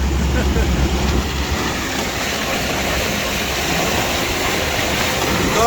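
A large tractor shreds wood outdoors, a loud, steady mechanical roar and grinding rumble that stays constant throughout, with a deep low drone in the first seconds and a voice talking over it.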